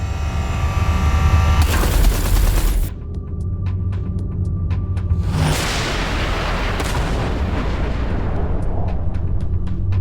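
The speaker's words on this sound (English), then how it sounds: "Watch out, the artillery." Heavy artillery fire in an Everspace 2 space combat, with loud booming blasts and rumbling explosions across the whole stretch, one dense burst early and continuous crackling impacts after.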